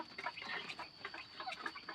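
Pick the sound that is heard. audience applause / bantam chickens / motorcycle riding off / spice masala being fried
bantam chickens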